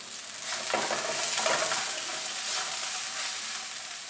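Ginger and green chilies with curry leaves fry in a pan over low heat, giving a continuous, even sizzle with a couple of soft stirring swishes early on.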